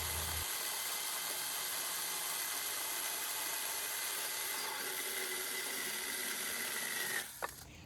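A 6-inch mini chainsaw buzzes steadily at high pitch for several seconds, cutting through a wooden 2x4 board, then stops with a brief clatter.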